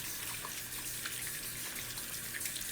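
Tap water runs steadily into a sink as makeup is washed off hands, a constant close hiss and splash with no talking.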